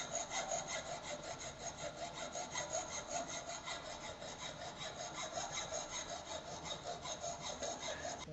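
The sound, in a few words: hand filing the edge of a metal workpiece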